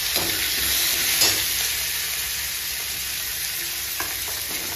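Onion, curry leaves and green chili sizzle loudly in hot oil, a dense, steady frying hiss with faint stirring knocks throughout.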